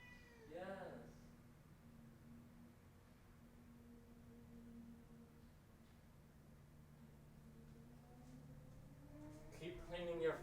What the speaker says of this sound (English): He's just gonna want to meow forever.